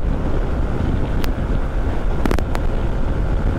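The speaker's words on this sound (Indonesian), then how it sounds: "Anginnya kencang" Strong wind roars steadily across the microphone while riding a motorcycle on a cold tour toward Dieng, a constant broadband rush with a few brief sharp clicks and no talk.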